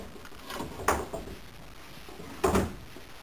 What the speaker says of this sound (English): when I put the door skin back on, it goes on just as easy